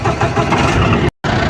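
A tractor engine cranks and catches after the key is turned, running as a loud, steady rumble with a brief silent cut near the end.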